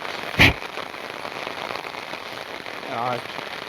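Monsoon rain patters steadily on a farm where buffaloes graze and a tractor is being loaded, a soft even hiss with one sharp close crack early and a brief voice near the end.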